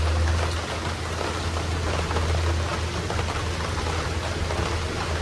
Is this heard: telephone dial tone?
no